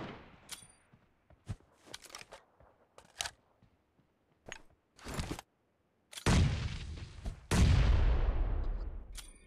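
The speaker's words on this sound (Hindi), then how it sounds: "और उतने में ही M249 चलने लगती है" Gunfire from an M249 light machine gun in a video game, heard as scattered single shots that build into sustained heavy bursts in the closing seconds, loud and close, with no talking.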